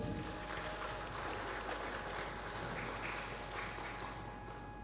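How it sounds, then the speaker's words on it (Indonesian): Audience applause at a Ramadan sholawat festival stage performance, a steady even wash of clapping that holds throughout, moderately distant and fairly quiet. "Tepuk tangan yang meriah untuk Almina."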